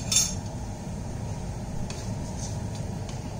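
Ginger and garlic being stir-fried in a pan with a little oil: a steady low sizzle, with a clink of a utensil on the pan at the start and a few light scrapes and taps later.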